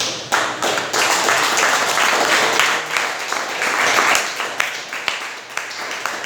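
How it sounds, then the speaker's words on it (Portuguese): A church congregation claps loudly and energetically during a sermon, a dense wash of applause broken by scattered sharp taps and thumps. "desocupe as suas mãos e aplaude os céus bem forte"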